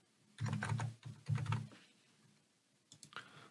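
Typing on a computer keyboard to enter an email address: two quick bursts of clustered key clicks close to the mic, then a pause and a few lighter taps at the end, with no voices.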